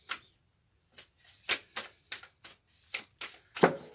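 Tarot cards are shuffled by hand in a series of crisp, separate riffling snaps and flicks, close and fairly quiet, with short gaps of silence between them.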